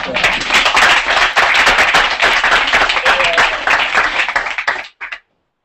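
An assembly audience at a general meeting in Valence claps in a thick, continuous round of applause that stays loud and then stops abruptly, followed by near silence.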